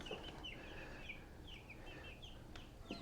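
Week-and-a-half-old meat chicks cluck and peep steadily in a brooder, a busy overlapping chorus of small chirping calls close by with no talking.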